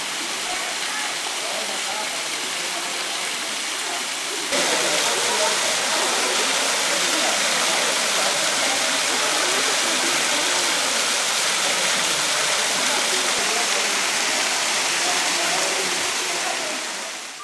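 A waterfall in the Peruvian mountains roars steadily, a broad rushing wash of falling water that grows louder after a few seconds and holds alone to the end.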